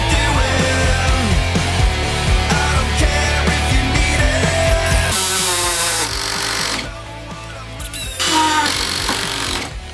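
A GRAND 16 V brushless cordless drill driver driving self-tapping screws, loud high whirring bursts rising and falling in pitch, with short pauses between runs, close by.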